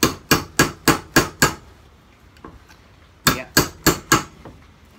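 Sharp metallic hammer blows strike a punch to drive a tapered steel step wedge out of a double bit axe head, six quick ringing hits, a pause with a faint tap, then four more, close and loud.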